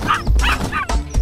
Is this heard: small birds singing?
no